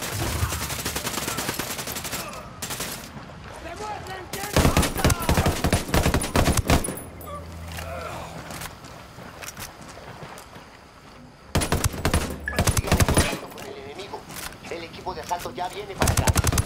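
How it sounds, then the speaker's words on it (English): Automatic rifle fire from the video game Ghost Recon Wildlands comes in several loud, rapid bursts separated by quieter stretches of game ambience and footsteps. "I'm opening fire on these shitheads."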